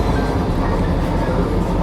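Steady rumble inside a moving Vande Bharat express train, a dense low roar with faint rhythmic rattling throughout, no voices.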